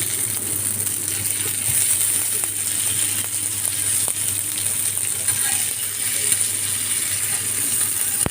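Brinjal 65 pieces frying on a dosa tawa over the stove, giving a steady, close, continuous sizzle and hiss with small crackles and no break.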